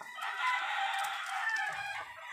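A rooster crows once, a loud, close, drawn-out call lasting about two seconds and heard alone.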